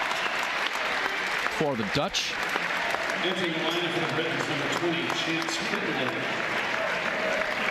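A crowd applauds a college men's basketball team at an NCAA Division III tournament game, steady clapping and cheering filling the arena while a commentator speaks over it briefly.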